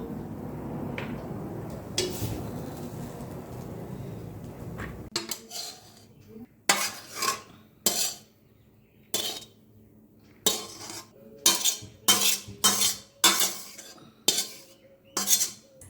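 Bengali-style fried rice is moved with metal utensils and pans: a soft scraping stretch, then a run of sharp, close clanks and clinks in uneven bursts.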